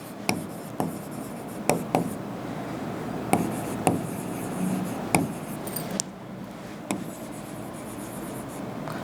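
A pen writes on paper close by, faint scratching strokes with sharp taps as the pen lifts and lands, spread irregularly across the span.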